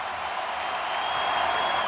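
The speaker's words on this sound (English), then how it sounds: "Well, this crowd has come to life." A baseball stadium crowd at a Mets versus Brewers wild card playoff game roars to life, a broad continuous wash of cheering that swells slightly toward the end.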